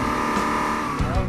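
A car's engine drones steadily on an off-road thrill course, with brief tire scrubbing and a surge near the end as it climbs and tilts on a slope, close and continuous.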